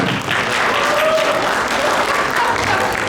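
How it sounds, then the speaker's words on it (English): A crowd at a town inauguration ceremony for newly elected officials breaks into a full round of applause, thick and continuous hand clapping at close range throughout. "give yourselves a nice round of applause"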